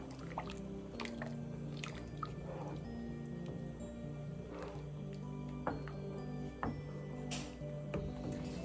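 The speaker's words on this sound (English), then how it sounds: "Then I like to add in just a little bit of heavy whipping cream" Heavy whipping cream is poured into simmering potato soup, giving soft wet drips and squishy liquid sounds, close and quiet, with faint background hum.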